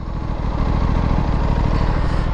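A deep, throaty Aprilia RS457 motorcycle exhaust rumbles up close, loud and steady with a low pulsing beat.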